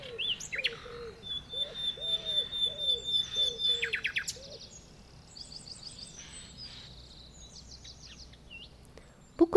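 Willow warblers sing in woodland, sweet descending phrases repeating close by, mixed with softer cooing and other chirps before a quieter stretch.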